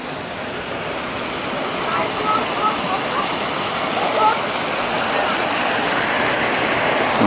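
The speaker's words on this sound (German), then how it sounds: "Und jetzt geht es doch nochmal in Richtung von diesem schönen Brunnen." A decorative fountain beside the Telemark Canal in Skien, Norway, produces a steady, fairly loud rush of splashing water, unbroken from start to finish and heard up close.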